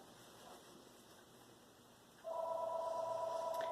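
A telephone tone starts suddenly partway through and holds as a steady electronic tone after a quiet room stretch.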